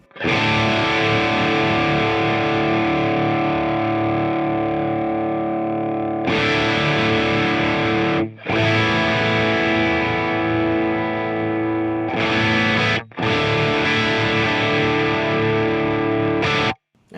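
An electric guitar played through a distortion effect rings out loud sustained chords, held for several seconds each, with brief silent gaps between four strummed passages.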